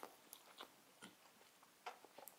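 A few quiet, close bites and chews of a Tulip brand hotdog, short soft crunching bursts spaced across a brief moment with no talking.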